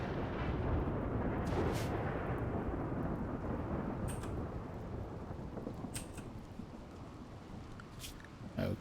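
Dry thunderstorm thunder rolls through a Warhammer 40k video game, a loud sustained low rumble with several sharp cracking bursts scattered across it, gradually easing off toward the end.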